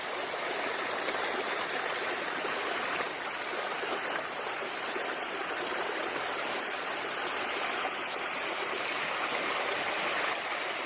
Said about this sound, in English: this is a recirculating system. We have 3 or 4 different waterfalls in it.